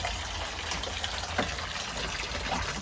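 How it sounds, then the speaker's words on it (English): A shower runs inside an RV after a water pressure regulator was replaced, a steady, fairly loud gush of water spraying continuously throughout with no talking. "Because I turned the shower on a minute ago"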